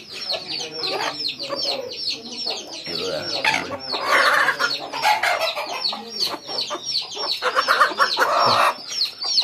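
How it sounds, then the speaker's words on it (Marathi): Rooster and hens clucking in a village yard in the morning, a busy run of close clucks and calls that rises and falls steadily with no talk over it. "हा या आपल्या कोंबड्यांबरोबरच असतो कोंबडा"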